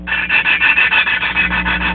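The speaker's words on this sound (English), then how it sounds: "We're gonna lap the valves. Got the lapping compound." Gritty, rhythmic scraping as engine valves on a Briggs 5 hp Raptor engine are lapped with lapping compound and a lapping tool, about ten quick back-and-forth rasps, loud and close, with no talk.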